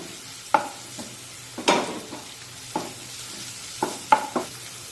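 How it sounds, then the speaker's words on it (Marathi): Ginger garlic paste sautéing in a pan for a dry capsicum dish, a soft low sizzle broken by a handful of spatula scrapes and clinks, close and without talk. "ही आलं लसूण पेस्ट सुद्धा एखाद मिनिट यामध्ये छानपैकी परतून घेऊया"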